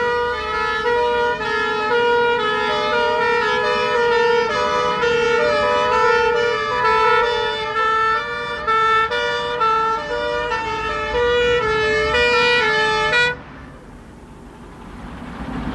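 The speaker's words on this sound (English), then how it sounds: "A command vehicle, hydraulic platform and pump engine respond to a call." A command vehicle, hydraulic platform and pump engine race to a call on a fire drill, their loud alternating two-tone sirens wailing close by for about thirteen seconds before cutting off to engine rumble.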